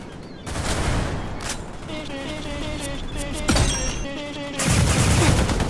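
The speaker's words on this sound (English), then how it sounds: "You can max fire rate and damage to create the most LMG-like machine gun possible" Roblox Weird Gun Game machine gun built for maximum fire rate and damage, loud rapid bursts of gunfire with heavy impacts and ringing shell tones, close and continuous across the clip.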